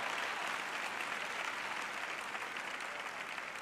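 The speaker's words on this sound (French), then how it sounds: "j'ai 3 personnes qui applaudissent là-bas." Scattered applause from a few people in a church audience, a steady soft patter of clapping lasting several seconds, heard from a distance without talk.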